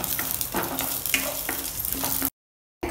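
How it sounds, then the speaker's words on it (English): Chana dal and dry red chillies fry in oil with a loud, close crackling sizzle and a few scraping stirs, then the sound drops to a brief silence before the sizzle resumes. "Fry them till the dals turn a nice reddish brown color."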